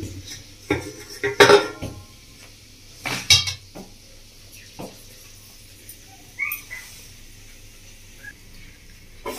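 A metal lid is lifted off a cooking pot of handi mutton with a few sharp clanks and scrapes, followed by quieter scattered kitchen clatter and brief faint chirps.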